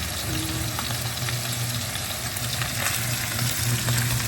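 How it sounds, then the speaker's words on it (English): Garlic sizzles in a pan while a steak dinner is being cooked, a steady loud crackling fry running throughout, with occasional stirring scrapes over a low hum. "The garlic cooking away."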